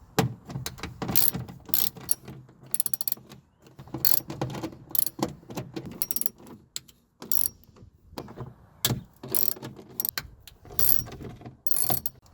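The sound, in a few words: ratchet removing bolts from Nissan 350z door panel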